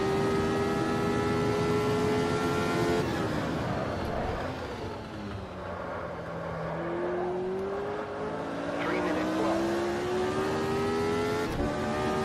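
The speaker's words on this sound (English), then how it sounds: "Car drifting out of the corner, but we're 4/10 up." A Formula Retro race car at Montreal '88 drifts out of a corner, its engine note dipping then climbing again in a loud, steady whine with rising pitch as it accelerates away.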